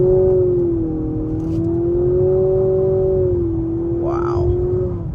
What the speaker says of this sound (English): open her up a little bit more on the gas